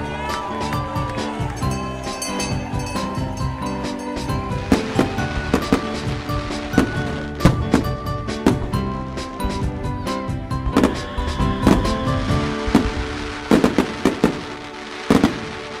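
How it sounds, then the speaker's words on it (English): Festive fireworks go off in a dense, loud barrage of sharp bangs and crackling bursts, layered with ringing tonal sounds throughout and peaking in clusters of sharp pops toward the end. "Fireworks just went off in my pants."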